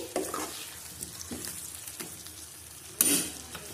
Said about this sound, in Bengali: টমেটো দিয়ে আমি এটাকে ভালো করে মিশিয়ে নেব ভালো করে মিশিয়ে নিচ্ছি